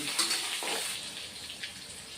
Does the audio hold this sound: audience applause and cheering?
no